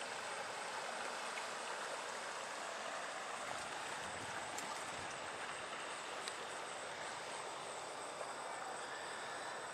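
Hermosa River flowing with a steady, even broadband rush of water at a campground, constant and unbroken with no talk.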